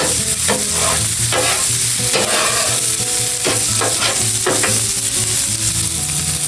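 Wagyu burgers sizzle loudly on a very hot grill, a dense crackling fry broken by occasional scraping and clattering, with no voices.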